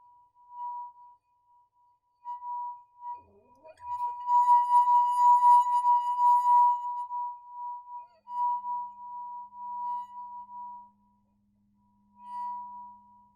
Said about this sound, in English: When I'm sliding with my finger on the wine glass, I'm performing a slip and stick motion